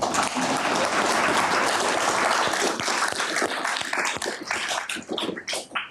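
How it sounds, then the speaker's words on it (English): Audience applause at a Holocaust remembrance conversation with a survivor, a full dense burst of many hands clapping that gradually thins into scattered claps toward the end. "Yes, applause."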